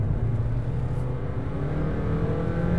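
Engine of a new Honda Freed revs at full throttle, a loud continuous drone from inside the cabin with pitch slowly climbing as speed builds, no voices present.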